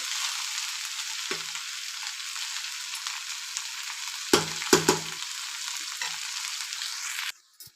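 Vegetables sizzle steadily in a pan over a high flame, a constant frying hiss running throughout, broken by a few louder scraping clatters of the spoon as they are stirred.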